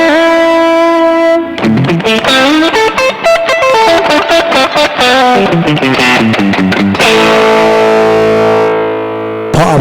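A heavily distorted electric guitar plays loud, sustained chords and riffs through an amp with a little added reverb, with a thick, saturated tone and a ringing chord at the end.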